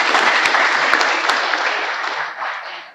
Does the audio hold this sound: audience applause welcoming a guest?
yes